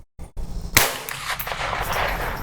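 .22 rifle fired over a chronograph outdoors: one sharp, loud close report after a short click, followed by a lingering rumbling echo, with no talking.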